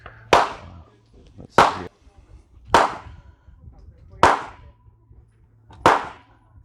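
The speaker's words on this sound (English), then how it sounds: "Those really wide out shots I kind of just pulled because the trigger's so light" Five sharp, evenly spaced shots ring out from a P210 pistol at a shooting range, each a loud crack followed by quiet gaps, with a brief spoken remark near the end.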